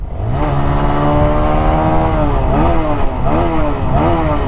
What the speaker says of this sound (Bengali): এক্সস্টের সাউন্ডটা আমার কাছে বেশ ভালো লাগছে